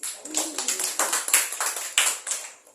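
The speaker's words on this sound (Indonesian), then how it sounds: "Tepuk tangan untuk Tuhan." A church congregation claps in a quick, rhythmic burst of many hands together, close and lively, lasting only a few seconds with no speech.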